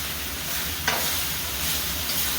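Precooked packet rice is tossed and stirred in a hot pan, giving a continuous close hiss of sizzling with a brief scrape of the utensil partway through.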